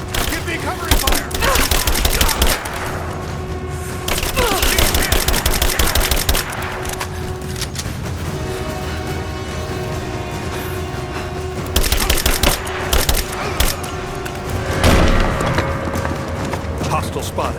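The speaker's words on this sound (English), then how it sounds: "Give me covering fire!" Gunfire in a Rise of the Tomb Raider firefight: loud, rapid bursts of automatic fire come in several volleys separated by short lulls of ambient combat noise.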